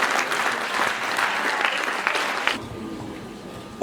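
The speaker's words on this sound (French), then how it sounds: "nous devons nous applaudir et applaudir le délégué et sa délégation" Audience applause at a talk, a sustained wash of clapping for about two and a half seconds that cuts off abruptly into near quiet.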